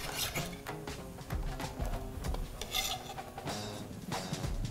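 Chopped onions are stirred in a pot of warming olive oil, giving a close, steady rubbing and scraping with a faint sizzle underneath, with no talking.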